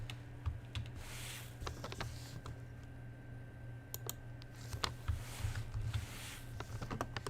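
Quiet, irregular clacking of keys on a wireless computer keyboard, bursts of typing with short pauses against a low steady hum, close and alone.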